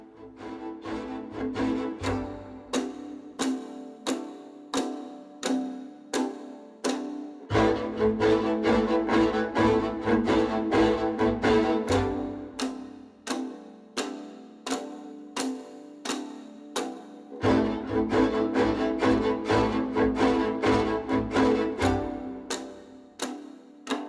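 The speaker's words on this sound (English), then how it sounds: "The sound you can hear is a ricochet bow stroke, also called jete, with only one hit for each note" Repeated ricochet (jeté) bow strokes on strings, each note struck once, ticking in an even, steady rhythm against sustained string and low accompaniment that drops out and returns in sections; no talk.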